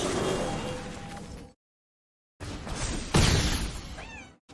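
Pet cat meowing at home, a short rising call near the end following louder bursts of noise and a gap of silence, close and fairly clear.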